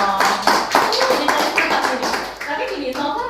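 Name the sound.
audience clapping hands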